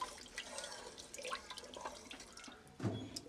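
About 1.5 litres of water is poured into a pot for a Bengali-style chicken vegetable soup. The steady splashing is fairly close and rises to a louder gush near the end, with no talking.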